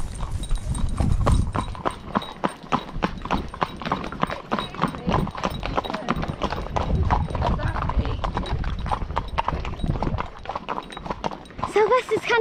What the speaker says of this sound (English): canter is so fast, Maria.